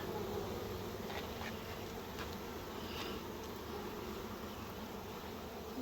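A honeybee swarm buzzing around a hive just after swarming, a dense, steady hum of many bees close by, with a few individual bees whining past.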